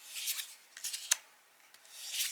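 A deck of tarot cards on smooth cardstock being shuffled: a quiet run of soft papery riffles and slides with one sharper snap near the middle, and no voices.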